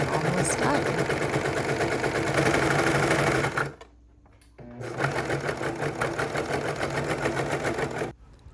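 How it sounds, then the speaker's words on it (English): Serger overlock machine stitching around the bottom of a t-shirt, a rapid loud whirring run that stops briefly, then resumes for a few more seconds before cutting off. "I just serged around the entire bottom of the shirt"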